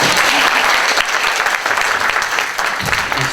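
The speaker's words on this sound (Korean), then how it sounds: "박수 한번 치면 됩니다." An audience at a talk concert about prehistoric hand axes breaks into loud, dense, continuous applause from a close crowd, sustained throughout without pause.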